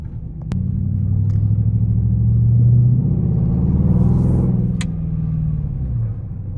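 A 2021 Dodge Durango RT cruising, its engine a steady low rumble with road noise heard from inside the cabin, loud and continuous, with a couple of brief clicks near the start and end.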